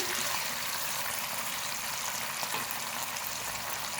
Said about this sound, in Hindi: अब इसमें 1/4 कप हम पानी शामिल करेंगे।